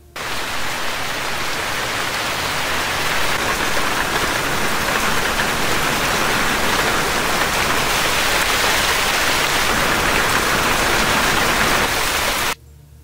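Light drizzle rain as a sound effect, a dense and even hiss of falling drops that runs steadily for about twelve seconds and then stops abruptly.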